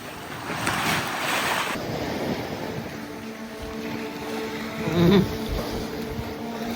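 Wind gusts and ocean swells wash around a sailboat at sea, a broad, steady rushing roar with microphone buffeting and a louder surge of water near the end, no voices.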